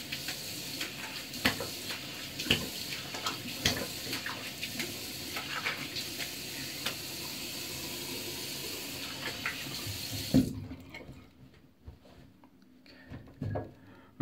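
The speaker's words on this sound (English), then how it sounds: "I'll go ahead and rinse off" Tap water runs steadily into a sink as a man rinses his face after a shave, a continuous close splashing hiss with small clatters, cutting off near the end and leaving quieter handling sounds.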